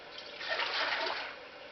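Milk pours steadily into an Instant Pot, a brief rushing stream that swells in the middle and eases off, close by with no talking.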